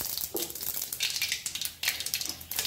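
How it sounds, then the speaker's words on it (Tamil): Mustard seeds crackle and spit in hot oil while tempering for coconut rice, a dense run of sharp pops and sizzle at close range with no voices. "இந்த பாருங்க கடுகு, கடுகு பொரிஞ்செடுத்து"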